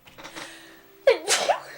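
A sudden sharp sneeze bursts out after a stretch of quiet voices around a tabletop game of Dungeons and Dragons, followed by a short second exhale, close and fairly loud.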